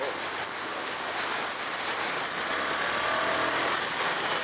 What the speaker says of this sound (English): Let's see what it sounds like when you get on the throttle.